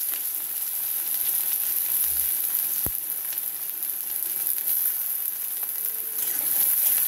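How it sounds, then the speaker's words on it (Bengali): Onions fry in hot oil, a soft, even sizzle running steadily throughout with one brief sharp click partway through. "এরপর দিয়ে দেবো পেঁয়াজ।"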